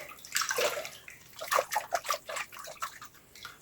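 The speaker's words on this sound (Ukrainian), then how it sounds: "огірки обов'язково заливаємо холодною водою" Cooled brine is poured from a vessel over cucumbers in a jar for pickling, giving irregular splashing and trickling bursts with short pauses between them, close and fairly loud.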